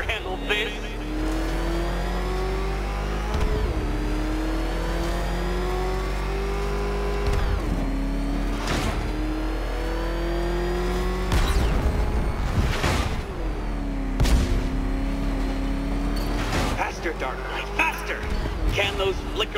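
Batmobile from Batman Arkham Knight, its engine roaring steadily and revving up and down in repeated surges, with sharp bursts and impacts over the top and a voice talking through parts of it.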